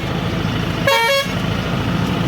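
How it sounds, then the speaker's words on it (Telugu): A highway truck carrying an over-height load near the Kovvur toll gate sounds one firm horn blast of about half a second, loud and close over the constant engine and road drone. "ఇప్పుడు హార్న్ కొడతా."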